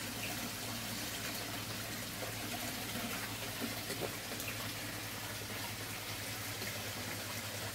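A garden waterfall trickles and splashes in a constant, soft wash of water with no pauses, steady and moderately faint throughout.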